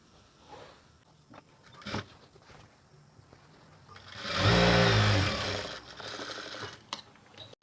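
A sewing machine stitches a school uniform pinafore, starting after a few soft handling noises, then whirring loudly and steadily for a couple of seconds before slowing to lighter mechanical clicks.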